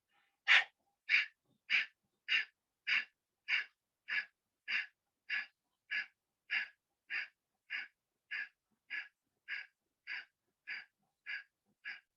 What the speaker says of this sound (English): On the belly button, you go down and look up and do Kapalbhati for 40 times